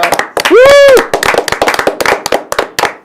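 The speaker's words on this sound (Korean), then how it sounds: "박수를 좀 세게 쳐주면 안 되겠습니까?" Studio audience on a Korean political talk show clapping hard, loud individual claps in quick irregular succession, with a rising, swooping vocal whoop early on and voices among the claps.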